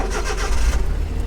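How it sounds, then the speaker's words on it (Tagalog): A Suzuki Every Wagon 4WD mini van engine cranks and catches, a steady low rumble with a brief surge partway through, close and fairly loud with no talking. "So start natin yung makina natin."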